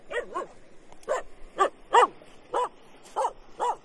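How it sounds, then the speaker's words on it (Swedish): A dog barks in short, separate yips and woofs, about eight of them at an uneven pace, close by in a quiet outdoor setting beside a lake. "Vad skäller du för?"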